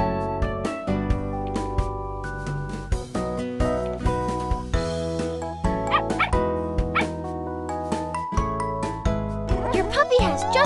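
A cartoonish puppy in a video game barks and yips in short bursts over bright, tinkling game music and chimes, with a childlike voice speaking at moments among the bright electronic effects.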